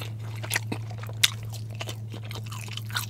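Someone chews a hot dog inside a truck, with soft, wet bites and a few sharper crunchy clicks spread unevenly over a low, steady cab hum. The chewing is quiet and close, with no speech.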